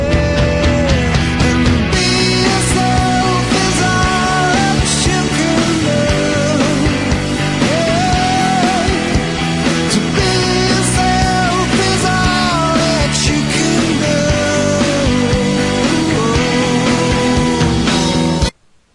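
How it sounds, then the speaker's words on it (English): A loud, continuous stretch of music with melody and steady rhythm plays without pause, then cuts off abruptly at the end. "You can also listen to the selected hook"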